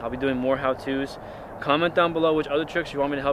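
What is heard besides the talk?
None of the usual background noises is heard.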